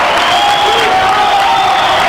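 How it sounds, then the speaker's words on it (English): Gym crowd at a girls' basketball game cheering and applauding, a loud, dense wash of clapping and shouts that fills the whole stretch without a break, with a steady whistle-like tone running through it. "the crowd comes to life"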